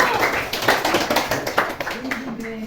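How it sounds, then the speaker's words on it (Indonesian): Students in a classroom clap for the blue group after a problem-based learning lesson, a short burst of applause, fairly close and lively, with voices talking over it toward the end. "Coba beri tepuk tangan untuk kelompok biru."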